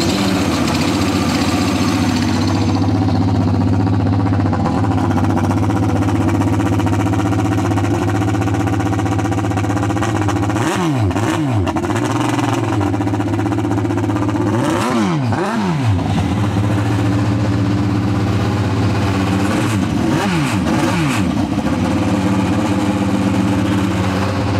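A powerful turbocharged jet ski engine idles loudly and steadily with a low throbbing drone, with a few sharp revs swelling and falling back partway through.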